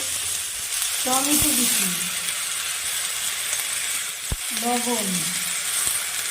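Cumin, chilli and turmeric powder fry with chopped tomato in a pan for a thin katla fish curry with potato. A steady, close sizzle runs throughout, and someone speaks briefly over it.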